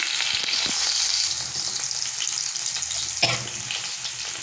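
Onions sautéing in oil for a ground-masala mutton curry, a steady close sizzle with a few scraping stirs of a spatula and a sharper clack near the end, no voices.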